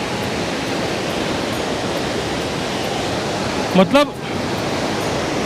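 Bhagirathi river rushing below a bridge near Gangotri, a dense, steady roar of whitewater filling the whole stretch, with a brief spoken word cutting in near the end.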